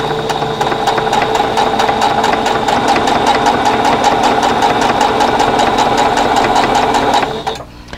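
A sewing machine runs steadily, chain piecing quilt block units at a 2.5 stitch length. The loud, even whir holds for about seven seconds, then stops near the end.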